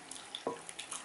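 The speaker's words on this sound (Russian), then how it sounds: "И заливаете небольшим количеством воды" Water poured from a tap or jug over seasoned potatoes in a pot, a brief close splash and trickle with a soft hiss under it.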